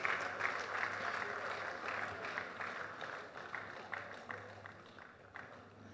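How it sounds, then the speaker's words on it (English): Moderately quiet audience applause at the CoopAWARDS 2023 ceremony as a host commissioner walks to the podium, steady clapping that gradually fades and grows more scattered toward the end, with a low hum underneath. "Please let's give her a warm applause as she comes to the podium"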